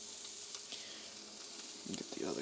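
Shrimp sizzling in a hot pan, a steady bright crackle and hiss that continues throughout, with faint stirring or flipping clatter near the end.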